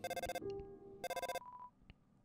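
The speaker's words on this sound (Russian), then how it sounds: "Телефон звонит." Synthesized phone ringtone from the video game Undertale, two short bursts of bright, rapidly pulsing electronic tones separated by a held chime, clear and alone.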